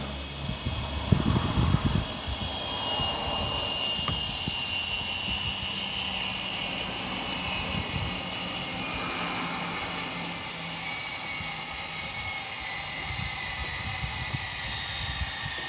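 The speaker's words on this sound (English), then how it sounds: "you'll continue to hold them until the motor mover starts making a noise" Motor mover fitted to a 2010 Vanmaster Applause 580 caravan grinds steadily against the wheel, a continuous mechanical whirr and hum, fairly close, with a louder knock near the start and no voices.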